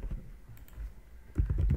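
Rapid keystrokes clatter on a computer keyboard, close and distinct, with a denser cluster of taps toward the end and no talk.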